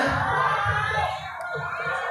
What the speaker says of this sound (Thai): เสียงตบมือแล้วก็เสียงกรี๊ดที่ดังสนั่นถึงหน้าวัด